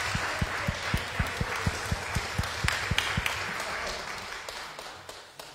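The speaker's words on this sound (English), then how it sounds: "at the count of three, round of applause." A church congregation at a worship service claps together in a quick, steady rhythm for about three seconds, then the applause thins out and fades into quiet room noise.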